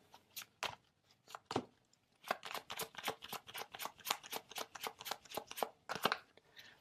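Oracle cards shuffled by hand in a series of quick, crisp riffles and slaps, close and fairly loud, with a few scattered shuffles first and then a steady rapid run of flicks, no voices.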